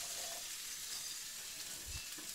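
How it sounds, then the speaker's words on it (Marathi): Tomato chutney sizzles on a hot tawa, a continuous bright crackling fry with a soft low thump near the end, no voices. "टमाट्याची चटणी चालू आहे इकडं मस्तपैकी तव्यावरची फ्राय करून"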